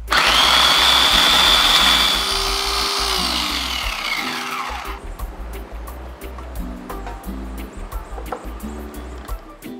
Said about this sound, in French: Tout ce beau monde va venir dans mon robot mixeur.